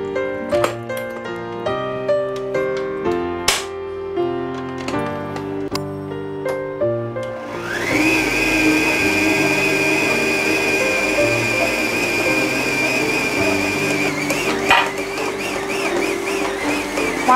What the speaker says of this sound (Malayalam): മൈദ 1 കിലോ ഇതിൽ കിടന്നിങ്ങനെ മിക്സ് ആയിക്കൊണ്ടിരിക്കുവാണ്.